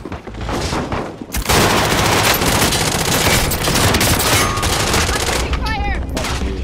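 Heavy gunfire bursts in Call of Duty: Modern Warfare: dense, loud rapid fusillades and machine-gun volleys roar continuously after a brief quieter lead-in, with explosive booms mixed in.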